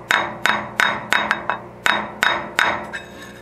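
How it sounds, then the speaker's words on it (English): Light hammer taps on a part being adjusted into place on a toolroom machine, about nine sharp metallic strikes at an irregular, unhurried pace, close and distinct with short ringing decay and no talk. "I'm just going to move over where I can tap it gently."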